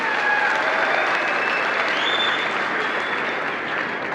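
Loud, sustained applause from a gathered crowd at a pigeon-flying tournament meeting in Haryana, a dense, even wash of clapping with no talk over it.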